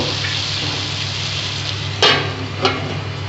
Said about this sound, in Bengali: এবার আমি একটু ঢাকা দিয়ে ভাজাবো